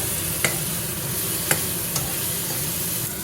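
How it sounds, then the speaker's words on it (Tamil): Onions sauté in a pan with dried red chillies and tomato toward golden brown for a Tamil paruppu chutney, a steady close sizzle broken by a few sharp scrapes of stirring. "வெங்காயம் கோல்டன் ப்ரௌன் கலரில் ஆயிடணும்."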